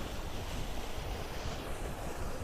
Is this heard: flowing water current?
yes